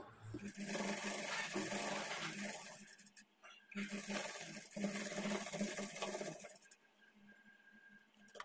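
A sewing machine runs a line of stitches across a plain blouse piece, whirring in two long bursts separated by a brief pause, then winding down to quiet hum.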